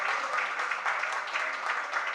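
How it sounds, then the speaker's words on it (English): A group at a Music for the Mind session claps together in an even, sustained round, moderately loud and close, with no voices standing out above the hands. "That's worth a round of applause"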